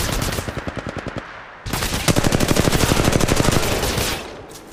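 Rapid automatic gunfire in Apex Legends Mobile comes close and loud: a short burst, a brief pause, then a longer, denser stream of shots that tapers off at the end.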